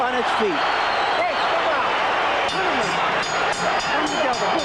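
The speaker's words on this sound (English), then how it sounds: "And the crowd is up on its feet." A boxing arena crowd at the Evander Holyfield vs. George Foreman fight roars and applauds in a loud, continuous wash of cheering, with voices talking over it.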